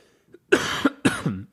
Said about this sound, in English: I knew I was going to cough